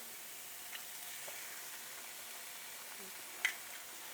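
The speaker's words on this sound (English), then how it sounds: "I'm just going to fry up all these ingredients before we add the rice." Fried rice ingredients frying in a non-stick pan, a quiet steady sizzle with faint stirring and one brief clack of a utensil.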